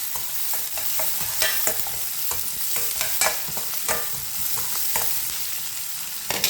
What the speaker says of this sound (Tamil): வெங்காயம், இஞ்சி, கருவேப்பிலை, வடிவாக கலந்து விடுவோம்.